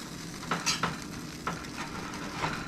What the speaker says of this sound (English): Gonna mix this together.